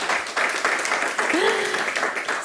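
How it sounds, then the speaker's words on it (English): Business conference audience claps for panelists after the last session of the day, a brief burst of applause under a lone voice that rises briefly over it. "Give them a round of applause, everyone."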